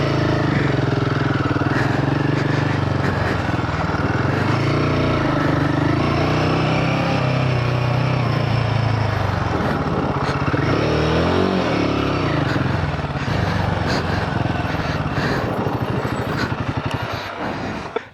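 Motorcycle engine on a steep downhill slope, loud and close throughout, its throttle blipped and revved in uneven surges rather than held steady, with the rough running note dropping and rising again near the end.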